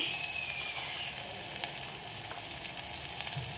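Wild shevla and chaywal greens fry in oil in a pan, a steady close crackling sizzle running throughout with no talk.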